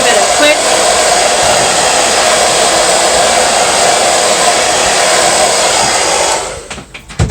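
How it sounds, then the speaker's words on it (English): A hair dryer blows with a loud, steady whoosh for about six seconds, then switches off, leaving a few faint clicks. "give it a quick once over with your dryer"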